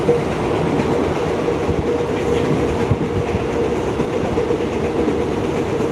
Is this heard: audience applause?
no